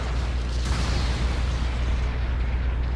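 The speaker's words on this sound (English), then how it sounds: "I don't understand how that explosion happened" A continuous rumbling blast roars through a Gundam Battle Operation 2 mech battle, loud and dense with heavy low-end boom and no distinct separate hits.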